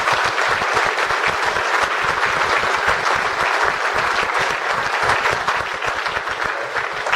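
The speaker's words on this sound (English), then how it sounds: "I think he deserves a round of applause" A room at an awards night breaks into dense, sustained applause for Alan as he receives an award, many hands clapping loudly and evenly for several seconds.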